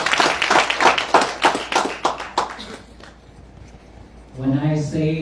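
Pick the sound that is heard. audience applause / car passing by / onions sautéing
audience applause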